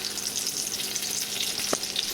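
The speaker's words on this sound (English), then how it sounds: "In the meantime, fry the bacon." Bacon sizzles in butter in a frying pan for a Slovenian pork chop dish, a steady close crackle with a single brief clink partway through and no talking.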